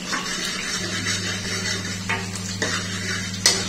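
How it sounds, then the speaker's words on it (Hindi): Food stirred and fried in a pan, a soft sizzle under a steady low hum, with a few light scrapes and clinks of a spoon against the pan near the end. "भून लेती हूँ अच्छे से"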